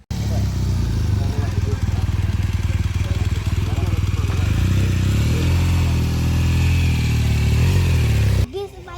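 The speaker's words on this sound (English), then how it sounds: "and these are the bikes" Several motorcycles from a visiting biker gang run loudly and continuously nearby at an outdoor resort in India, a steady, heavy engine rumble with some revving that cuts off near the end, with speech faintly mixed in.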